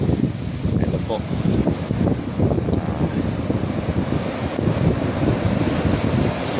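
Strong wind buffets a coastal camping spot in Quezon, a loud, constant low roar of gusts against the microphone with a surf-like rumble underneath and no clear pauses.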